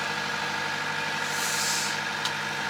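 A sailboat motors on its engine in a calm with no wind, giving a steady low hum and vibration that continues without a break, together with a faint hiss of water against the hull.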